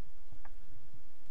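Several sharp, separate clicks of keys being pressed on a computer keyboard while typing numbers, close and isolated, with quiet between strokes.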